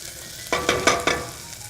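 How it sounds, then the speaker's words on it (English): Shallots softening in a pan for rice pilaf, with a quiet background sizzle broken by four quick stirring scrapes in a row, close by and without speech. "now I just want to cook the shallots for a couple of minutes, minute or two, and just until they're nice and soft and a little translucent"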